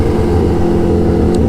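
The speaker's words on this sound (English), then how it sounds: "God, this bike sounds so good. It's all that flutter" A Kawasaki Ninja H2 superbike engine roars at steady high revs, a loud, continuous close-up drone with a fluttering low rumble and no pause.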